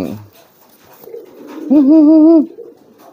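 A male pigeon coos loudly and close while driving its mate a few days after she has laid eggs, a rolling, wavering coo lasting under a second after softer rustles and quieter calls.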